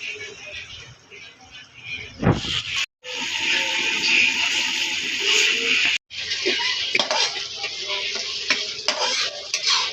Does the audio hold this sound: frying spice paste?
yes